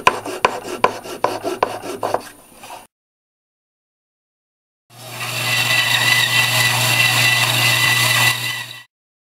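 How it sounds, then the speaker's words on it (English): Hand sanding of wood on a woodworking project, a hutch carcass, in two bursts: first quick rhythmic rasping strokes, then after a pause a steady, continuous loud scrubbing that runs about four seconds. "Then with a little bit of sanding, that'll be fine."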